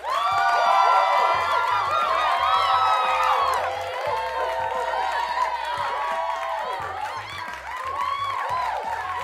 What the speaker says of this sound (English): Pittsburgh Toddy, you get a round of applause.